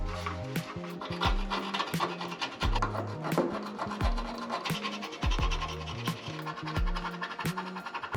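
Rubbing and scrubbing on a circuit board from a 1995 Honda Civic, wiped down with isopropyl alcohol, giving a steady close-up rasping friction with repeated short strokes throughout.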